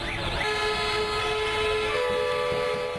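Several vehicle horns blare together for a one-minute protest in a sustained, overlapping chorus of tones with traffic noise underneath.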